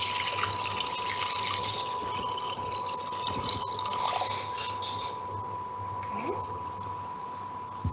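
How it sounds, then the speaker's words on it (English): Water runs steadily into a cooking pot holding a cup of rice, a constant gushing fill that holds at an even level throughout. "Please add the water."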